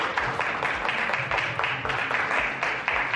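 Audience at a brain health summit clapping in a round of applause, a fairly sparse, rhythmic patter of hands that reads as a smaller crowd, close and steady throughout with no voices over it.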